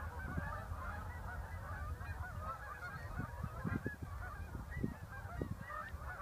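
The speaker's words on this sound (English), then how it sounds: "Canadian geese." A flock of Canada geese honks repeatedly at Seneca Lake, a dense chorus of overlapping calls that carries on steadily, moderately distant with no talking.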